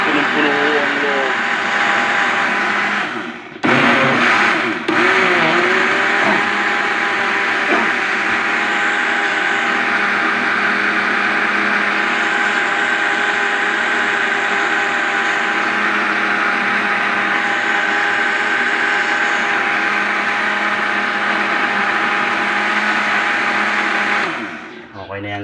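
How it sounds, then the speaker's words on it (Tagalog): An overfilled blender grinds a natural feed supplement for chickens, a loud, strained motor roar running steadily for over twenty seconds with a brief dip early on, then cutting off at the end. "medyo nahirapan ang blender"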